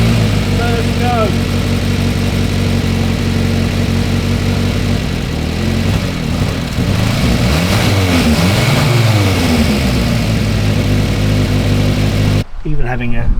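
A Morris Minor Traveller classic car engine runs steadily at a loud, close idle, then rises and falls through a couple of revs before cutting off near the end, with a voice speaking over it.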